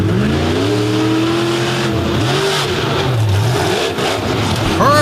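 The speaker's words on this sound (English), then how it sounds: "Lining it up again. Gonna get a running start at it." A 2024 Indy Freestyle race car, lining up for a running start at an obstacle, revs loud and close with its engine pitch climbing steadily, dipping briefly, then rising again.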